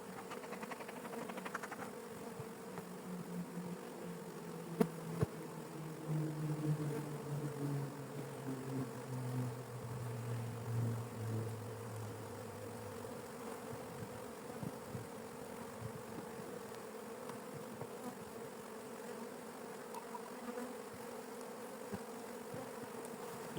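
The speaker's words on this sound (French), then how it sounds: "il y a quand même pas mal d'abeilles, hein, qui travaillent sur la ruche, sur les cadres" Honeybees buzz steadily around an open beehive and its frames during a hive inspection, a close, continuous drone with shifting pitch from passing bees and no talking.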